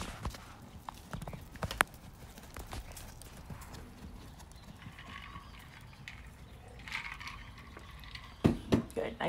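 A horse walks at an arena lesson, hooves clip-clopping in an uneven run of close, crisp strikes, with a cluster of louder hoof hits near the end and faint voices in the background.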